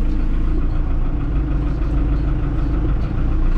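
A tractor engine idles on a farm during sorghum and sunflower sowing, a steady, loud low rumble with an even mechanical knock running throughout and no voices.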